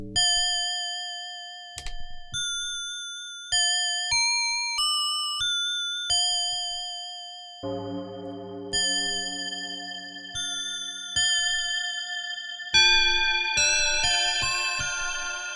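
Arturia MicroFreak synthesizer playing an ambient bell and gong patch: clear struck bell tones step through a sequence of pitches, each ringing and slowly decaying, followed by deeper, denser gong-like hits with long shimmering tails.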